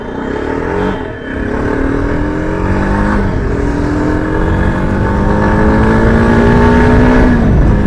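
A Yezdi Adventure motorcycle rides along a highway just after its first service, its engine droning loud and steady as it climbs through the gears with rising pitch, briefly dipping near the start.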